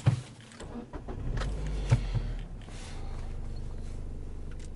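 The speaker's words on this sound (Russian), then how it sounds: "Все, производим запуск автомобиля." A Mazda 3 BK engine cranks and starts after a click and a brief starter whine, then settles into a steady, low idle hum heard from inside the car.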